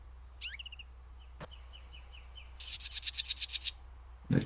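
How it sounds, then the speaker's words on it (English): Blue-headed vireo song: a few short whistled phrases, then a quick run of bright, laughing notes, moderately close over a quiet outdoor background. "the blue-headed vireo, I feel that it's like laughing right at you"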